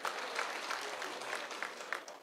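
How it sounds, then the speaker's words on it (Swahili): An audience claps at a public meeting during a visit by Kipchumba Murkomen to Vihiga County, Kenya: dense, steady applause with scattered louder claps, moderately distant, lasting about two seconds. "Asante Senior Chief, apigiwe makofi afadhali"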